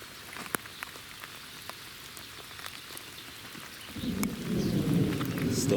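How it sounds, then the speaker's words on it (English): Rain and thunder over the Hinds River in New Zealand: soft patter and faint rumbles at first, then a steady, louder downpour hisses in after about four seconds, with no voices. "Still thundering."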